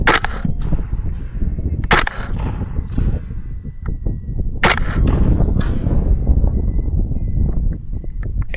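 Rifle shots from a Rix Tourer T20 in 6.5 Grendel during a night hog hunt, three sharp loud cracks spaced a couple of seconds apart over a constant rumbling background.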